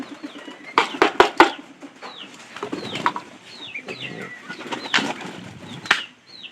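Pigeons suffering from a cold coo softly nearby, broken by several sharp bursts of wing flapping and clattering movement, with no talk.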